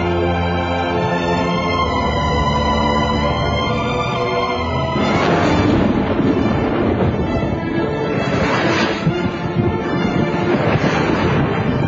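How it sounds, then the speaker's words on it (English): Thunder rumbles through a ferocious storm at a theme park attraction, a long, loud low roll that builds midway and keeps grumbling to the end, with no voices. "Ferocious storm raged, and with one mighty bolt of lightning severed a single branch of the old oak tree."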